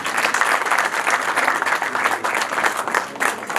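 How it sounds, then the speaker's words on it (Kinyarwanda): Wedding guests applaud together in a dense, sustained burst of clapping that stays loud and fairly even throughout, close to the listener with no clear talking. "Niba nta shyari dukome mu mashyi n'impundu."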